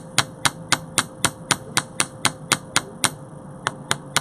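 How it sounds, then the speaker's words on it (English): Light hammer taps on jewelry wire resting on a steel bench block, a steady run of about fifteen sharp metallic strikes spaced roughly a quarter second apart, close and crisp with no talking. "Now I'll flip, and I'll hammer the other side. Again, light taps."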